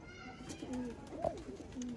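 A breeder pigeon gives soft, low coos close by, a few rounded calls spread across a quiet background with no talking.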